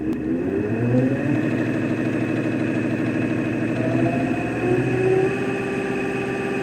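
A DC motor powered from a battery of under 36 volts starts and runs, a steady whirring hum with rising and shifting tones as it spins up, loud and close throughout.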